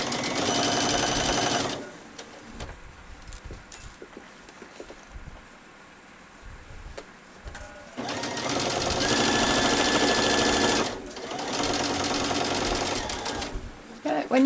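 Sewing machine stitching a child's dress skirt, with a close whirring run at the start, a quieter gap with small handling sounds, then two more sustained stitching bursts.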